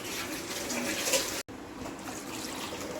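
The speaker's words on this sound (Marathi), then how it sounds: "पाणी किती वाढवायचं असेल ते वाढवतो" Water is poured steadily into a cooking pot for a Konkani-style crab curry, a continuous watery rush with a brief gap in the middle, then resuming at similar volume.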